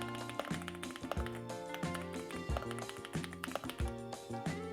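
Rapid, uneven clicking and popping keystrokes from an RGB mechanical computer keyboard during fast typing, close and fairly quiet with no voices.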